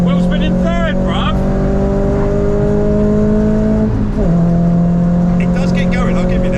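A Renault Clio 172 engine pulls hard and loud from inside the car, its pitch rising steadily, dipping briefly at a gear change, then climbing again. Voices talk over it.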